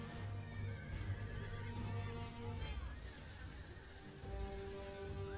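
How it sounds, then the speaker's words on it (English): A horse neighs in the video game Total War Rome 2, a clear whinny rising and falling over a busy battle backdrop with faint hoofbeats and distant crowd noise. "Noble horse!"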